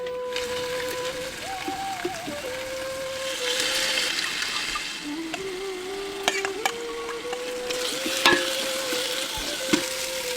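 Steady sizzling and frying as mutton and ground masala are sautéed in a pan, with occasional stirring scrapes and clinks, close and continuous, no voices.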